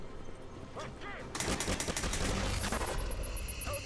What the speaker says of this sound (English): what we're going to do is just keep firing off this gun until everybody in there dies.